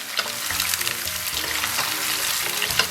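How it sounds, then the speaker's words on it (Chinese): Chopped scallion and garlic stir-fried in a hot wok, a steady close sizzle and crackle with occasional scraping stirs, loud and continuous throughout with no talking. "咱们把这个切好的葱蒜给它下里边， 继续给它煸炒一下"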